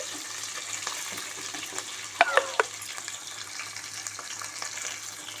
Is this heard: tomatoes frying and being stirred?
yes